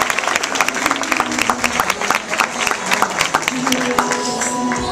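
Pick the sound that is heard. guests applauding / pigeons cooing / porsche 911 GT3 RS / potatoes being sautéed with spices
guests applauding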